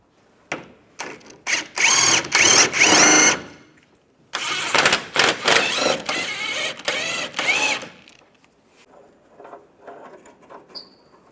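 Power tool driving the engine cradle bolts on a 2005-2010 Chevrolet Cobalt during a clutch replacement, heard as several loud close whirring bursts with short pauses, then a quieter tail.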